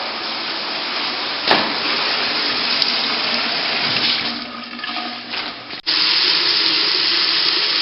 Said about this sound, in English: And the drains are running.